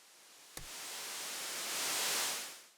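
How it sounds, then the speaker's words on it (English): A soft wash of white noise from the Serum synth swelling gently and then fading, with a brief click near the start, in a tech-house track. "I took just serum and put a white noise here."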